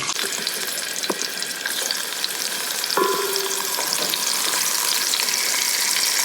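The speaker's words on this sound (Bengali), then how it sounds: "এখন আমি এটাকে একটু ভাজিয়ে ভেজে নেব" Rohu fish head rubbed with salt and turmeric sizzling in hot oil in a pan, a steady close frying hiss with a brief scrape or clink partway through.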